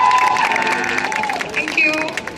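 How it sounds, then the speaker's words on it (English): Audience cheers and claps at an Indian dog show in a Chennai mall, a loud burst of crowd noise with whoops and applause close by. "Can we have a big round of applause, please?"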